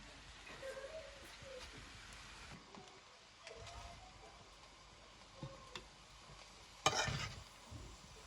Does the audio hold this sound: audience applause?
no